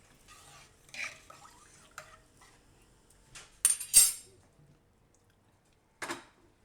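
A spoon clinks and scrapes intermittently against a pressure cooker while khichdi of cracked wheat and mixed dal is stirred with water, turmeric and salt, in short close knocks separated by quiet.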